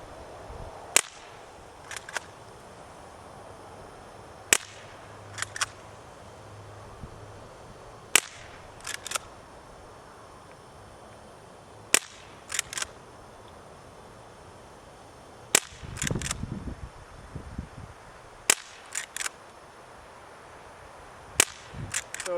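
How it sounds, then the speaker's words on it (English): Walther Lever Action eight-shot CO2 pellet rifle firing about eight sharp, evenly spaced shots, each a crisp crack followed by faint metallic lever-cycling clicks between them, with no talking. "Let's see what we get for velocities."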